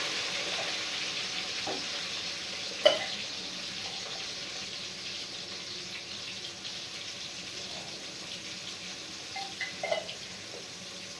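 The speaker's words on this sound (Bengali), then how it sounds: "এবার আমি আলুগুলো ভেজে নিই" Potatoes fry in hot oil with a soft, even sizzle that runs throughout, broken by a couple of sharper clicks and a brief clatter near the end, moderately quiet and close, no talking.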